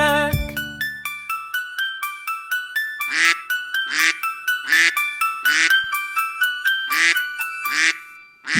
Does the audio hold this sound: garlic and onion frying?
no